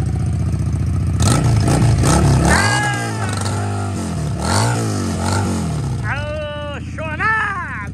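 A motorcycle revs up hard from a standstill with rising and falling engine pitch through several surges, loud and close, while someone talks over it.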